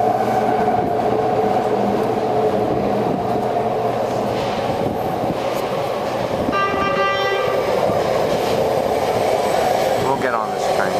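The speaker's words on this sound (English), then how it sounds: "there's a San Francisco SFO Airport train approaching right now" A ten-car BART subway train bound for SFO Airport rolls into a Bay Area station platform, loud rumbling wheels and rail noise with a brief tonal horn or brake whine, continuous and close throughout.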